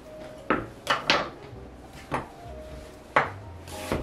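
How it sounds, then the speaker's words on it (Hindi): An onion is chopped on a board for chana aloo chaat, with about seven crisp knife strikes that fall unevenly, some close together in pairs. They sound near and distinct against a quiet room, with no one talking. "लास्ट में हम अपनी प्याज चॉप करेंगे।"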